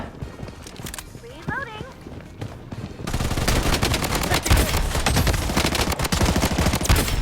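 Gunfire in the shooter game Blood Strike: a quieter opening with a voice, then dense, loud automatic fire and rapid shots that fill the second half without a break.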